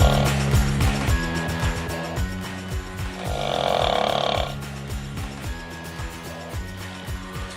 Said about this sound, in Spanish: observamos y escuchamos a una persona dormida que ronca